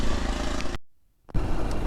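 A motorcycle engine runs loud and close on a monsoon road trip toward Malshej Ghat, cutting out abruptly into near silence for about half a second before the engine roar returns strongly.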